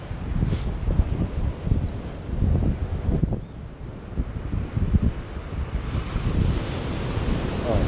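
Sea waves surge and wash onto Nha Trang beach on rough water after a storm, a steady low roar with gusty wind buffeting the microphone, close and continuous.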